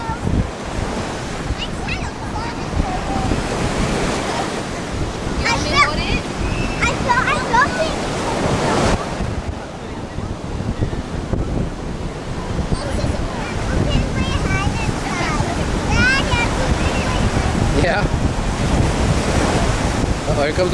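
Ocean waves wash onto a Hawaii beach in loud, continuous surf with heavy wind rumble across the microphone, while people talk and shout nearby.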